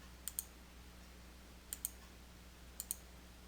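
A computer mouse clicking three times in quick double-click pairs, crisp and close against a quiet background hum, with no talk.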